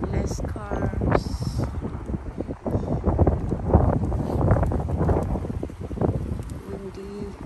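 Gusty seaside wind buffets the microphone on a breezy afternoon at Southend-on-Sea, a steady rushing roar with louder gusts, while people talk nearby.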